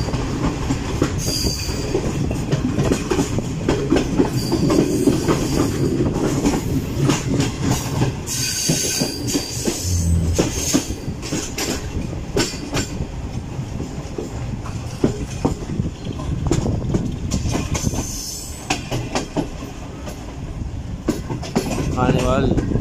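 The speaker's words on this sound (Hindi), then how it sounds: "गाड़ी अप्रोच कर रही है खानेवाल जंक्शन रेलवे स्टेशन" A Karakoram Express passenger train rolls into Khanewal Junction railway station, with steady wheel rumble, rail clatter and occasional squeals close by, alongside voices in the background.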